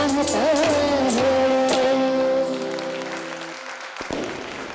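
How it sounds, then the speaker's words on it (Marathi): Audience applause at a Diwali gathering's musical program: a dense wash of clapping that swells over the last sung and held notes, then thins and fades as the music stops. "अशाच टाळ्या देत राहा, कलाकारांना येईल हुरूप"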